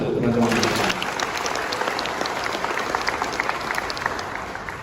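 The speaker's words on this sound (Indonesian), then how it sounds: "Tepuk tangan untuk teman-teman." Applause from a crowd of supporters at an indoor gathering, a dense, loud burst of clapping that carries on steadily, with a voice speaking over the start.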